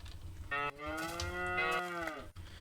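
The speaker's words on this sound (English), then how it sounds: "Let's kill a couple more cows." A Minecraft cow lets out two drawn-out, clear moos in quick succession, close and moderately loud with no talk over them.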